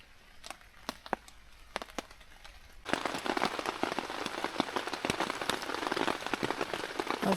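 Steady rain patters on a tent at a backcountry bivouac in a forested park, starting with sparse scattered drops, then swelling abruptly into a dense, continuous drumming that stays close and even to the end, with no talking.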